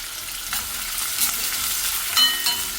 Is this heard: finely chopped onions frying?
yes